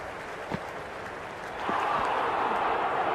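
Stadium crowd in the Cricket 26 video game cheering as a steady roar of broadband noise, swelling louder partway through and holding at that level, with no talk over it.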